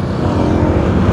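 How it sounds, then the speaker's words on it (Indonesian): Motorcycle ridden along a red-dirt road, a steady, close engine drone running continuously with no talk over it. "Nah, sambil naik motor aja."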